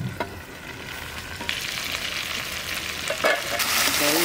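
Goat mutton stir-fries as kosha in a pot, giving a steady close sizzle broken by occasional scraping strokes of a spatula. No one speaks.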